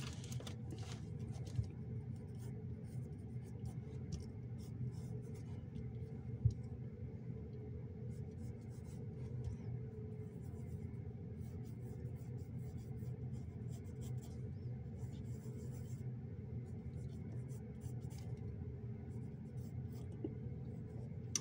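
A pencil sketches gesture lines on paper, a steady run of faint scratching and ticking strokes over a continuous low rumble, with no talking.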